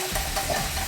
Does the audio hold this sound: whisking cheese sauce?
yes